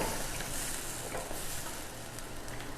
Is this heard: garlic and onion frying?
yes